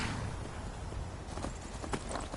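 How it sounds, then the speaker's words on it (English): Horse hooves clip-clop along in Skyrim, a quick run of close steady steps over a dense outdoor ambient bed, with no talking. "There you are, horse."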